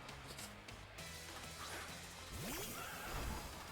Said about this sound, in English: We got 2 horses.